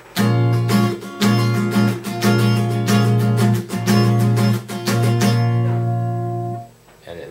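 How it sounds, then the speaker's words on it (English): A sharp minor seven barre chord on guitar, strummed repeatedly in a steady rhythm, each strum ringing close and full before a last chord fades out. "A#-7 basically goes like this,"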